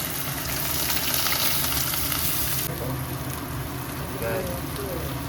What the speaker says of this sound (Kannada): 3 ಸ್ಪೂನ್ ಎಣ್ಣೆ ಗೈಸ್ ಬಾಳೆಕಾಯಿ ಹಾಕೋತಾ ಇದ್ದಾರೆ